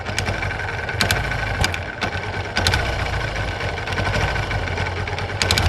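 A Yamaha FZ motorcycle idles steadily up close, its engine chugging evenly while a loose clutch bell adds repeated sharp rattling clicks at irregular intervals.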